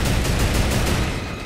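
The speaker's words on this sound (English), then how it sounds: "they're shooting us" Gunfire in the video game Fortnite, a rapid, continuous burst of shots firing in a fast, even rhythm, loud and close throughout the brief moment.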